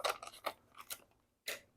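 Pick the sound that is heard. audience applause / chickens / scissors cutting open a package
scissors cutting open a package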